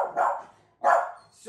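Dogs bark in two sharp, close bursts separated by a short pause, loud and rough, during the unpacking of gifts for a pack of dogs at home.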